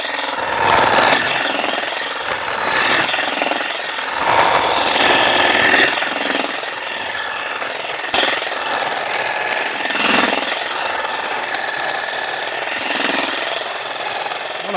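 A powered olive harvester with shaking rods working through olive branches gives a continuous mechanical rattling and buzzing drone, loud and close, with rhythmic surges as the rods move through the foliage.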